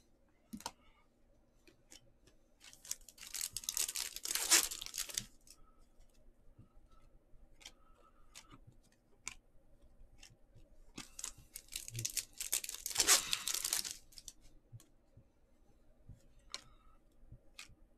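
Foil packs of 2021 Bowman Chrome baseball cards being ripped open in two bursts of crinkly tearing, with light handling clicks and rustles between them and no talking.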